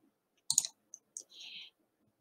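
Computer mouse clicking close up during software work: a few sharp, quick clicks spaced apart, with a brief soft hiss between, in a quiet room.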